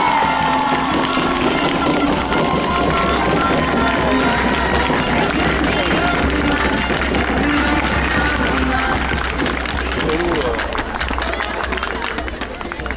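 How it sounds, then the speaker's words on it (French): A crowd at an awards ceremony cheers and shouts steadily for a team, with clapping and excited voices blended into one dense, loud roar from start to finish. "Un tonnerre d'applaudissements pour l'équipe de Marchand"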